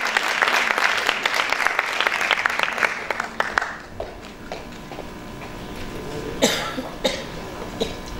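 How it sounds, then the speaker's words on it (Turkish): Applause from an awards ceremony audience honoring a social responsibility project, fairly loud clapping that fades out midway, followed by a quieter room with scattered coughs and a few isolated claps. "Mia Event'i alkışlıyoruz bu ödül için"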